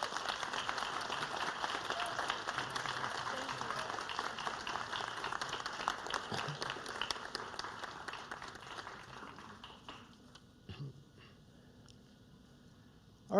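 An audience applauds an award recipient at an academic excellence ceremony, sustained steady clapping from a large crowd for about ten seconds, then fading to scattered claps and quiet.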